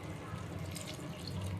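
Water poured from a glass into a simmering drumstick and tomato curry in a pan, a steady close trickling splash with a low background hum, no talk.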